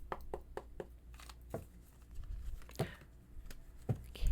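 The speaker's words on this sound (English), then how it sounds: "So, I just want to shuffle a few times and then we'll jump right in." Tarot cards being shuffled by hand, giving a string of short crisp riffles and taps with quiet rustling between them, close and alone with no talking.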